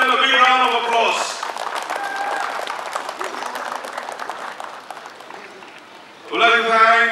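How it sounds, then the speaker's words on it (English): An audience claps for the swimming officials at the North East Olympic Games, a sustained round of applause in the middle, with someone speaking briefly before and after. "Please give them a big round of applause."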